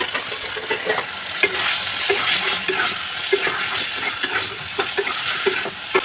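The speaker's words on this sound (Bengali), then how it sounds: "এখন এর মধ্যে আমি ভাজা মাছটা দিয়ে দেব।" Pieces of fried fish are stirred into hot oil with ground spice paste for a shapla-leaf fish dish. A steady loud sizzle runs throughout, broken by rhythmic scraping taps of the spoon against the pan, with no talking.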